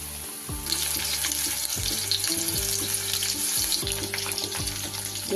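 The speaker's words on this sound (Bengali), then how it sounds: "এইভাবে সব চিকেনের টুকরোগুলো আমি এক এক করে ভেজে" Chicken pieces for restaurant-style chilli chicken fry one by one in hot oil, giving a steady close sizzle with faint tonal background sounds running underneath.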